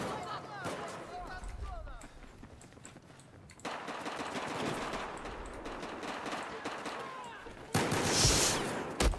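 Rapid bursts of automatic gunfire from small machine pistols in the video game Battlefield 1 crackle through a busy firefight, with scattered distant shots and a loud close burst near the end, over a player's excited talk.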